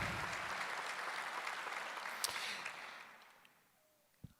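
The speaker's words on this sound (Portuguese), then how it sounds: "Vamos dar uma salva de palmas a esse grande homem de Deus?" An audience applauds at a church reflection, a broad clatter of clapping that holds steady and then thins out and fades over a few seconds, ending with a few scattered claps.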